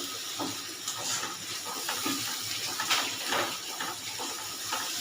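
Water is poured from a small bowl into a pan of cooking gravy, making a steady splashing and trickling wash that lasts throughout, close and moderately loud.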